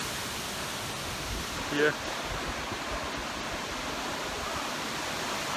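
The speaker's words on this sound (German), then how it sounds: "Zwischenstopp auf 2000 Meter an einem Wasserfall." An alpine waterfall at about 2000 metres gives a constant, even rush of falling water, heard fairly near, while a voice briefly speaks one word midway through.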